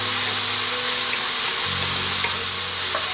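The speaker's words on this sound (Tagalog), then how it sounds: "hintayin lang natin maluto sandali yung ating kamatis at ang sibuyas" Tomato and onion sauté in a pan, a steady, close sizzle and fry with soft stirring running continuously throughout.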